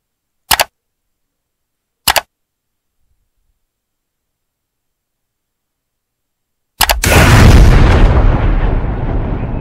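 Heavy sniper rifle fire in a video game: two sharp, isolated shots a second and a half apart, a long silence, then a third loud blast that runs into sustained rumbling noise.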